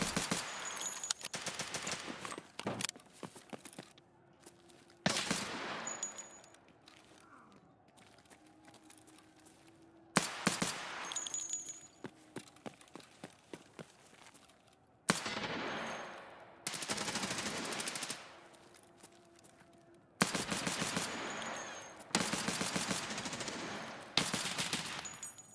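Pistol fire in the video game Escape from Tarkov: sharp, loud shots at a slow pace, spaced several seconds apart, each followed by a brief tail of clicking and handling noise.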